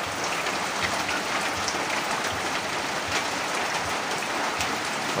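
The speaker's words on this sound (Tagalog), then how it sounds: "Magbabagong taon, binaha po kami. Lakas ng ulan." Heavy rain pours steadily in a flooding neighborhood at New Year, a dense, even hiss of drops hitting surfaces with no break and no voices.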